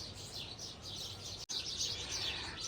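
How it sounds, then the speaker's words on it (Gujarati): Birds chirp and tweet continuously from nearby trees in a home garden with ripe lemons, a steady layer of high calls with a brief gap midway and no talk. "તો અત્યારે જો પક્ષીનો અવાજ એકદમ મસ્ત આવે છે"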